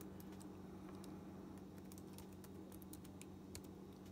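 Keys on a computer keyboard click in an irregular run as a command is typed, faint, close and sparse over a low steady hum.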